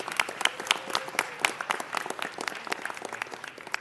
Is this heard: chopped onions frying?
no